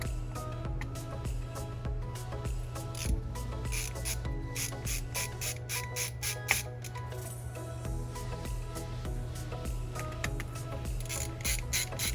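Screws are backed out of an Acer C733T laptop motherboard with a ratcheting screwdriver, producing a rapid, close, quiet clicking that repeats in bursts over a faint steady hum.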